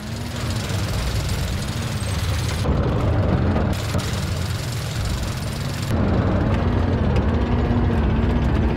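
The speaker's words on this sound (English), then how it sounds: "Notice the engine sound as well as the gun sounds" A tank engine in the game World of Tanks, with 9.6 sound mods, drones loud and continuous with a low rumbling throb that shifts in pitch and intensity throughout, no voices over it.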